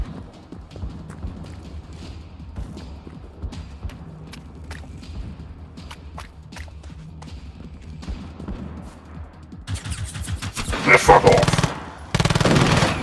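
Gunfire in Generation Zero rings out as scattered sharp shots, then swells into a dense, loud burst of rapid fire toward the end, with a brief spoken voice in the mix.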